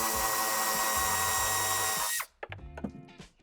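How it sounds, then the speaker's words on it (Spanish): A power tool removing a 17 mm bolt from an Audi A6 Avant: a loud whirring impact drive runs for about two seconds, then stops abruptly, followed by a few brief clanks and handling noises. "podremos quitar un tornillo de 17 que lleva aquí"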